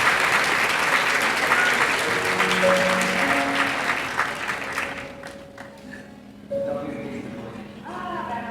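Applause from a festival audience greets the opening of the 50th La Rochelle film festival, a steady dense clapping that fades toward the end while music plays along and a voice starts speaking.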